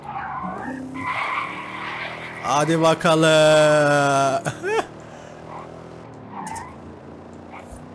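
Car driving and skidding in Forza Horizon 5: a loud tire squeal with engine tone rises around the middle and ends sharply, set against a quieter engine hum, with someone talking briefly at the start.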